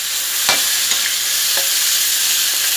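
Pork marinated in oyster sauce and soy sauce frying in a pan, with a loud continuous sizzle and a few sharp scrapes of a spatula stirring.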